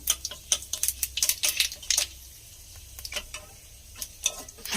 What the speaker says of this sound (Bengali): আর দিয়ে দেবো আমি 5 ফোড়ন। 1 চামচের মতো আমি 5 ফোড়ন নিয়েছি।